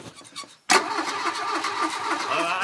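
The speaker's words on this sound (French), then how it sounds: "Tentative de démarrage avec l'aide de son père." An old car's engine is cranked during a start attempt and then catches, settling into a steady running drone after a brief quiet moment, close and loud.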